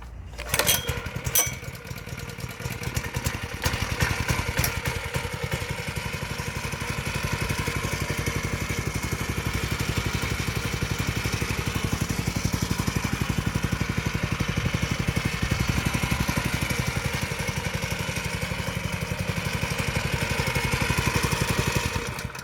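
A MowMaster R22 petrol lawn mower, choke on, catches with a few sharp starting bursts, then settles into a steady, loud, buzzing engine drone that runs evenly close by.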